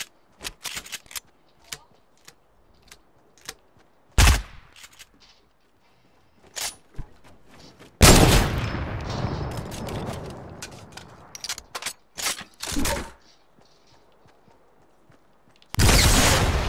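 Sharp, loud gunfire bursts from an Xbox shooter game, heard as a few isolated single shots early, then a long dense burst of rapid fire midway and another at the very end, with quiet gaps between.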